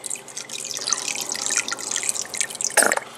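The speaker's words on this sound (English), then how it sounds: "To that same water, you're going to add olive oil." Olive oil poured into a pot of salted pasta water for spaghetti olio: steady close dripping and trickling, with a brief fuller splash near the end.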